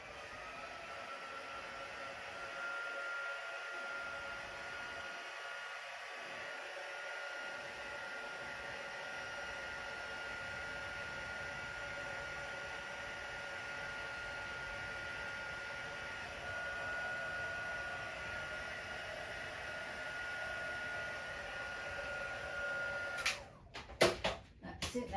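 A heat embossing tool blowing hot air over paper: a constant, loud whooshing hum that runs unbroken for over twenty seconds, then cuts off into a few brief clatters.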